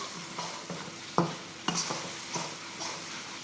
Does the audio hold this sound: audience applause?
no